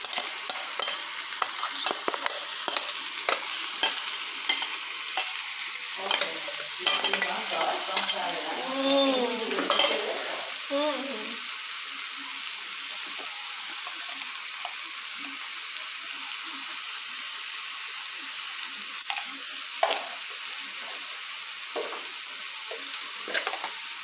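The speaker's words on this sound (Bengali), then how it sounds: "এবার ঝিঙেগুলো খোসাগুলো বাটাগুলো পেস্টগুলো দিয়ে দেওয়া হলো তেলের মধ্যে, দিয়ে এবার ভালো করে এটাকে নাড়তে হবে" Paste of ground ridge gourd peel frying in oil while being stirred, a constant close sizzle with soft scraping and brief bubbling bursts early on; no one speaks.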